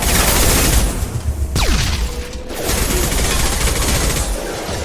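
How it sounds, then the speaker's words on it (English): Loud, dense gunfire in a firefight in the video game Mass Effect 2, sustained automatic bursts with a dip midway, close and continuous without talk. "Shoot them before they take out the field."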